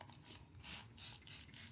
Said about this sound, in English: you can spray some water on it.